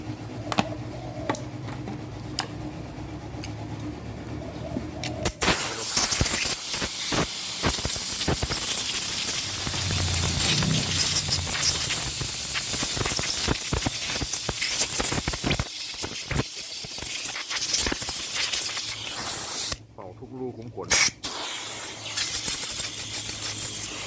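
Compressed air hisses loudly through the carburetor of a 5200 chainsaw being cleaned. A steady blast follows a few seconds of quiet handling clicks, runs for nearly twenty seconds with a brief pause near the end, and no one speaks.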